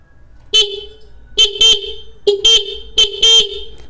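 Loud sealed Minda car horn, repaired after a loose connector, beeps close by in a repeating pattern, a single toot followed by a quick double toot, several times over.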